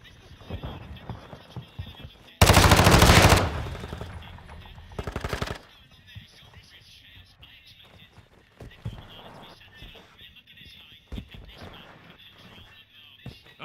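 A loud burst of automatic gunfire in third-person multiplayer on the Modern Warfare 2 beta, followed by a shorter second burst, then quieter footsteps and scattered distant shots as the match continues.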